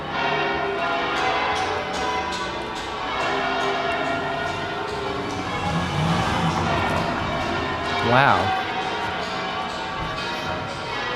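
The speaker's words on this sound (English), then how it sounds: "The bells are crazy. I feel like they're getting louder." Church bells ring continuously in Seville, Spain, a dense wash of overlapping peals carrying across the street, loud and steady, with a brief exclamation from a voice partway through.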